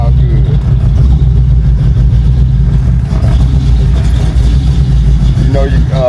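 A small-block Chevy V8 car engine, recently fitted with a Holley electric fuel pump, rumbling loudly and steadily at low revs close by, with voices talking over it.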